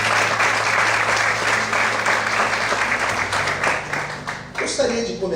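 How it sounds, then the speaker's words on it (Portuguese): A church congregation bursts into loud, sustained applause that fills the room, with voices mixed in, tapering slightly toward the end. "Você pode aplaudir ao Senhor"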